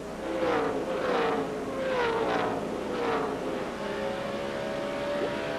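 NASCAR stock cars at the 2005 Sylvania 300 roar through a corner, engines sweeping past in several overlapping passes that rise and fade at a steady, loud distance.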